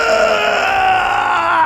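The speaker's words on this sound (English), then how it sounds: "Wilhelm scream." A Wilhelm scream sound effect used for a tabletop fantasy role-play game: a single loud, drawn-out wailing cry sustained throughout.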